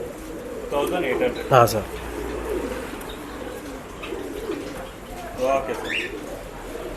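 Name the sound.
pigeons cooing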